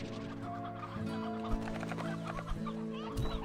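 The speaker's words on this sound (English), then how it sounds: "Oh, there's a lot of chickens in here." Chickens cluck in the Slime Rancher 2 video game, several short clucks and squawks over a steady tonal game music bed, close and moderate in level.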